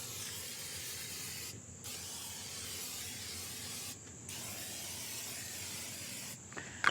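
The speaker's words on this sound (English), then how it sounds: "And we're going to use Pam, olive oil Pam. Spray the outsides." Three bursts of olive oil cooking spray from an aerosol can, each a sharp steady hiss separated by short pauses, close up.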